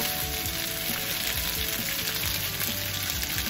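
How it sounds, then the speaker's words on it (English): Pieces of radish cake fry in a pan with a steady, even sizzle, a continuous close crackling hiss with no talk. "You want to make sure you fry it evenly."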